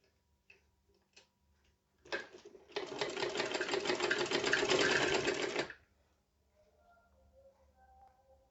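Sewing machine stitching the flared skirt of an umbrella frock, a steady fast mechanical whir lasting about three seconds after a brief start, with a few faint clicks before and quiet after.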